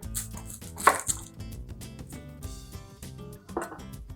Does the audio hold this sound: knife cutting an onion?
yes